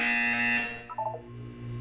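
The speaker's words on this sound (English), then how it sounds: "You will hear a buzzer. When you hear the buzzer, look down at the floor." A buzzer in the video game Portal 2 sounds as a steady, loud, harmonic electronic buzz for about half a second, then fades into a few brief tonal blips over a quiet hum.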